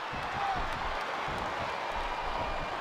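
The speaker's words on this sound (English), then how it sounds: "I love hearing the crowd come alive, even when I don't exactly agree with what they're saying" Crowd noise from a wrestling video game, WWE SmackDown Here Comes the Pain, a steady dense roar of cheering spectators filling the arena throughout, loud and continuous with no clear pauses.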